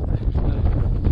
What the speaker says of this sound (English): it's just too windy